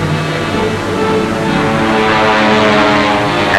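Propeller engines of World War II Wildcat fighter planes drone overhead in a steady, loud, continuous roar with a slight swell toward the end, alone without voices.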